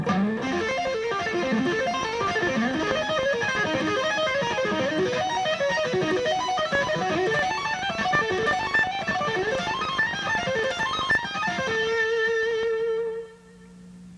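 A distorted electric lead guitar plays a fast lick that climbs in minor-third shifts, with quick continuous note runs that end on a held, ringing note and fade, with no talking.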